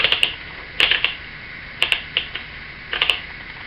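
Keys strike on an Oliver No. 5 typewriter with a three-bank keyboard, crisp metallic clacks arriving in four quick clusters of two to four strokes, close and clear with no voices.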